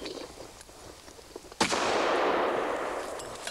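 A single sharp shotgun blast cracks out midway during a hunt, followed by a long, loud rolling echo that slowly fades across open ground.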